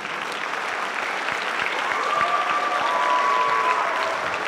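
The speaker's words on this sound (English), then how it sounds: "Can you give them a huge round of applause" Concert audience at a high school spring band concert giving the band parents a steady, full round of applause, a dense continuous wash of clapping from a large crowd.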